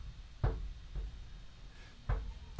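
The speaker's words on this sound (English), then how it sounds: "This is my daughter knocking on the door." Knocking on a door by a child, a few separate dull knocks at intervals, moderately close and not very loud, with no talking over them.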